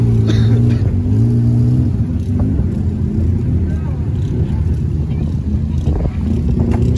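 A UAZ off-road vehicle at an off-road sprint event idles close by with a rough, uneven engine drone, while people talk over it.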